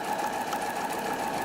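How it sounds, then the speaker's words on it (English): A sewing machine stitches a seam on a circular infinity scarf, a steady, close mechanical hum and whir that runs without pause and with no voices. "So I'm going to sew down here"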